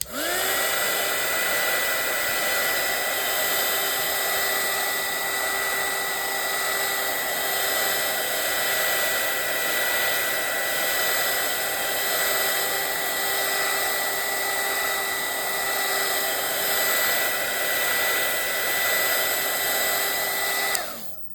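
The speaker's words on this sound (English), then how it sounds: "I'll just take my dryer and I'm going to" A hair dryer runs continuously to dry a handmade craft bookmark, a loud, steady whooshing whine with a constant motor hum from start to finish, no voices.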